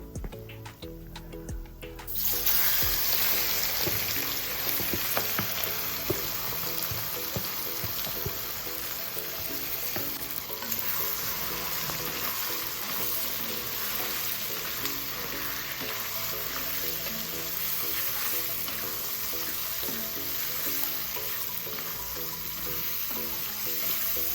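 Marinated country chicken pieces sizzle loudly in hot oil, a steady crackling hiss that starts abruptly after a quieter moment and continues throughout.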